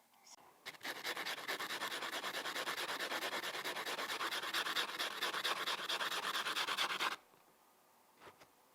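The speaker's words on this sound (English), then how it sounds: "I want to sand it before I glue it" Steady rapid rasping of sandpaper rubbed back and forth on a plastic model car part, close and continuous for about six seconds, then stopping.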